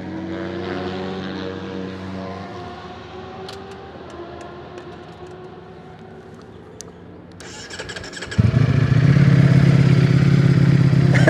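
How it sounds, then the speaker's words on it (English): A stock Ducati Desmosedici RR sport motorcycle engine idles with a low mechanical rumble, then suddenly roars louder as it revs hard near the end. "this is one of the loudest sounding stock bikes you'll ever get to hear"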